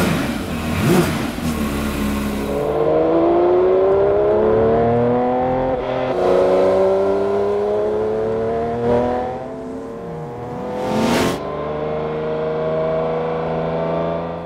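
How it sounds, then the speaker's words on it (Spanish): Porsche 911 S/T with the 525 hp engine from the 911 GT3 RS, revving loudly through rising and falling sweeps, a high-pitched flat-six howl climbing sharply through the revs, heard close up and alone. "Un motor que promete grandes cosas al volante y que por ahora suena así de bien"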